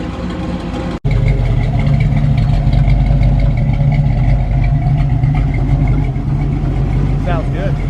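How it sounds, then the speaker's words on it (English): Close, loud idle of a 1969 Camaro exhaust: a deep, even rumble that holds steady throughout after a brief cut at the start. "So this is a before shot of the exhaust idling."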